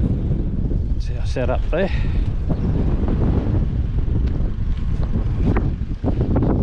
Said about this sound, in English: Don't know how we're gonna go with the audio with all this wind.